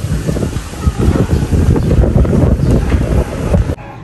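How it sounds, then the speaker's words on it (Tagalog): Strong wind buffets the microphone in loud, rumbling gusts, then cuts off abruptly at the end. "Lakas po ng hangin."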